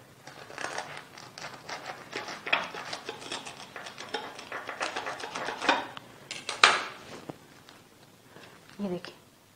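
A knife slices into a crispy fried burger pakora, giving a run of crunchy crackling cuts with sharper crunches midway and near the end, close and crisp.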